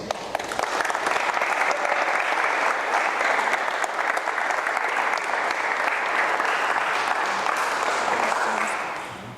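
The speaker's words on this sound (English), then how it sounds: "Give yourselves a huge round of applause" A gym crowd at a Hillcrest Hoops event gives a long, steady round of applause, dense and even throughout before tapering slightly at the end, with no talking over it.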